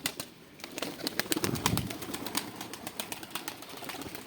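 Pigeons shuffle and flutter in a coop, with rapid wing flaps and soft scrabbling that swell briefly, then continue in short bursts with faint cooing.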